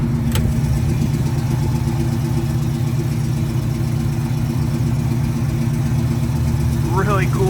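A 1973 Ford Mustang Mach 1 with a 351CJ V8 idles with a deep, lumpy exhaust rumble, steady and loud up close, with a brief voice near the end.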